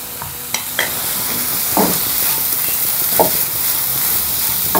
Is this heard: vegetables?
yes